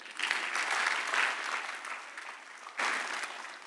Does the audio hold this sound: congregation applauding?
yes